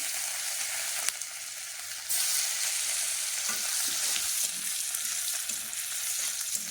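Cumin seeds and garlic frying in a hot pan with oil, a steady close sizzle that jumps louder partway through as more goes in, with faint stirring beneath.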